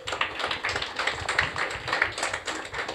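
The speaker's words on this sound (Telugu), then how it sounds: "చప్పట్లు కొట్టాలి ఇప్పుడు." A church congregation clapping hands in a dense, continuous patter of applause at moderate distance, with little else heard over it.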